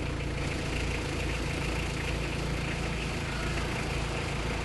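A VW Syncro 4x4 engine drones loud and steady in low range as the clutch is let out, a constant rumbling roar with no change in pace.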